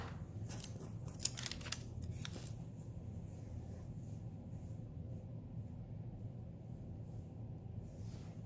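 Scissors snip the thread end on an embroidered felt leaf pin, a few quick, close, crisp cuts clustered in the first couple of seconds, then a quiet room with no talking.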